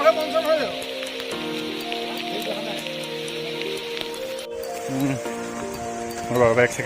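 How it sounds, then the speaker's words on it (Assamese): Rain patters steadily on surfaces at the start of a Dzukou Valley trek, a soft continuous hiss beneath voices talking throughout, with a louder burst toward the end. "হঠাৎ এজাক বৰষুণ আহি পালে"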